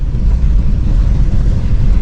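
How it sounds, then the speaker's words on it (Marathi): A heavy, continuous roar of wind buffeting the microphone during a monsoon storm, with a dense rushing wash of heavy rain underneath, loud and unbroken. "पावसाचा जोर एवढा आहे ना"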